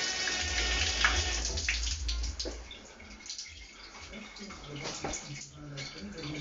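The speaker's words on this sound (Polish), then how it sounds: "Tu mamy prysznic. Woda leci oczywiście, ciepła, zimna." Water runs from a shower in a newly renovated bathroom, a steady hiss and splatter that rises and falls as the flow changes, with a voice talking over it at moderate level.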